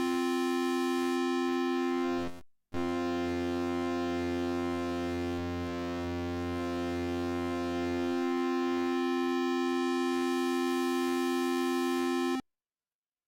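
Sunvox synthesizer oscillator waveforms added together and smoothed individually, heard as a long, bright, buzzy sustained tone rich in harmonics, briefly cut by a gap before resuming and droning steadily until it stops abruptly.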